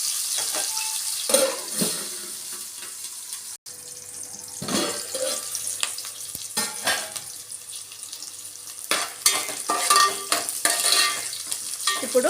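Moong dal kichidi is stirred in a pot on the stove, with a steady soft bubbling and sizzling under repeated scraping strokes of a spoon against the pot, close and moderately loud.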